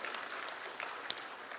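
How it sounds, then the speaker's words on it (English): Audience at the University of Guyana Open Day and Job Fair 2025 giving a steady, even round of applause, a dense wash of many hands clapping throughout. "So please give him a loud round of applause for that work."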